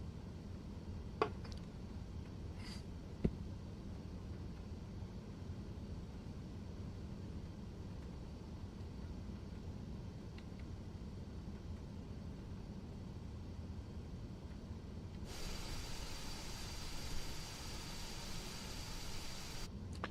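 Steady broadband engine drone of a Black Square King Air turboprop sitting on the runway in Microsoft Flight Simulator 2020, constant and fairly quiet throughout, with a brighter hiss swelling near the end as power builds.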